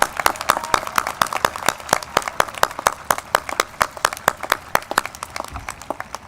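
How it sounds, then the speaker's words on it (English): Scattered, fairly sparse clapping from a small group honoring new student pharmacists at the St. Louis College of Pharmacy White Coat Ceremony, with sharp, close hand claps overlapping steadily throughout and no talking. "join me in a round of applause for our new student pharmacists"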